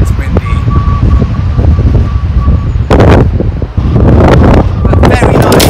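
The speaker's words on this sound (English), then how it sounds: "Gosh, it's windy." Gusty wind buffets the microphone with low rumbling roar during outdoor metal detecting in the UK, interrupted by louder bursts and rustling; a person speaks briefly amid the noise.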